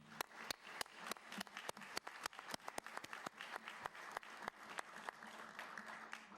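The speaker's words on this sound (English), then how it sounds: "give her a round of applause" Crowd applause at a council meeting, steady and fairly distant, with individual sharp claps standing out throughout.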